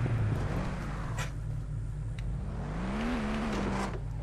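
A car drives in the LEGO Jurassic World video game, with a loud steady engine drone whose pitch dips and then climbs as it revs, plus a few brief bumps, no voices.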